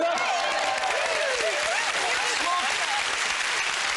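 A television game-show studio audience at Family Fortunes claps steadily and loudly throughout, a dense continuous applause with voices and chatter mixed in over it.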